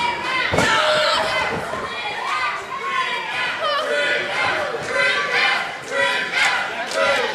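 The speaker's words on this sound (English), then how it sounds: "And honestly, this crowd's loving it." A wrestling crowd at an NWA women's championship match roars and shouts loudly and continuously, with scattered yells, a few thuds from the ring and commentary voices layered over the din.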